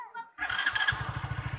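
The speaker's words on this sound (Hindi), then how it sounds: "अगर ये आप गाड़ी स्टार्ट कर रहे हैं" A new BS6 Hero Splendor Plus motorcycle is started, a brief starter whine catching into an even idle of quick regular engine pulses, close by, with a voice briefly heard just before it fires.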